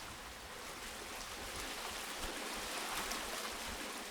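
Steady broadband rush of flowing water from a stream running nearby in a quiet mountain valley, continuous and even with no voices.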